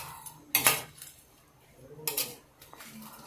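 Utensil scraping and clanking against a pan while shrimp cooked with Sprite is mixed, two loud metallic bursts of stirring separated by quieter shuffling, close by with no talk.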